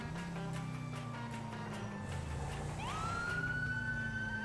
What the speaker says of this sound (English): why they always turn on the siren?